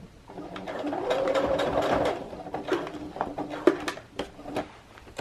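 A sewing machine stitches a skirt hem over a bulky seam, running in a labored, uneven burst with clicking and whirring, slowing and straining before a few separate mechanical clunks.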